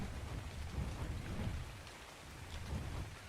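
Steady rain pours across an in-game landscape in Ark Survival Evolved, with a dense wash of drops and low rumbling like distant thunder, no voices.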